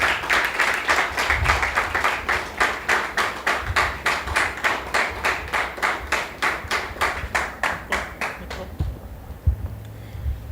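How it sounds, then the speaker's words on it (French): An audience at a Beninese television broadcast welcomes a guest with rhythmic, unison clapping, loud and evenly paced, which stops near the end and leaves a quiet room. "Est-ce qu'on peut recevoir, comme elle mérite, Madame Rosemonde Daoui"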